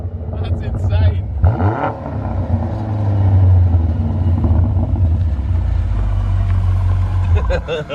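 A 2019 BMW M5 Competition fitted with an AC Schnitzer ACS5 sport exhaust, tuned to 720 bhp, rumbles steadily at idle with a deep, loud, close drone, and people talk over it.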